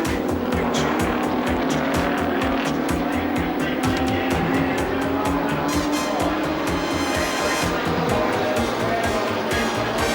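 Touring race cars roar around Sandown near the finish of the 1986 Castrol 500 endurance race, with engines droning and shifting and a commentator talking over the continuous racing noise.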